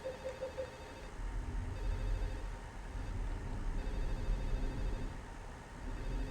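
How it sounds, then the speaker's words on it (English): A telephone rings in the Silent Hill 4 video game, a faint repeating electronic ring at moderate volume, set against a steady low ambient drone. "this phone's gonna drive me crazy"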